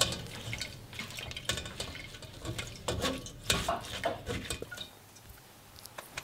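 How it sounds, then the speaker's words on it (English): Wet squishing and scraping as blitzed seafood shell pulp is pressed through a sieve with a wooden spoon for palabok sauce, with irregular drips and clinks of the sieve against a bowl. "Then with a sieve and a wooden spoon, just squeeze all the good juice out."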